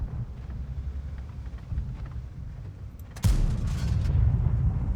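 A tank main gun fires in World of Tanks as one heavy, booming blast that cuts over steady engine rumble and wind, with the low roar lingering afterward.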